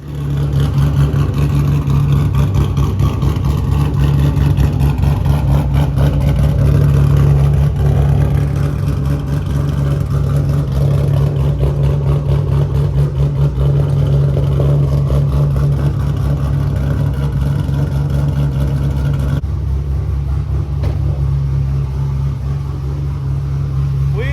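A car engine with catalytic converters removed rumbles loudly and steadily with a deep exhaust drone, holding a constant idle-like roar throughout.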